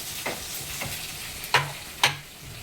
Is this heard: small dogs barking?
no